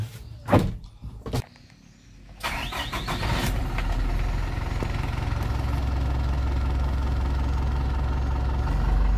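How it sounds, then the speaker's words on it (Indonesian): Hino Dutro Xpower Euro 4 truck engine starting up and then running with its throttle turned up, a loud steady rumble that builds and holds near the listener. "Tuh, diputar gasnya naik ya, kedengarannya"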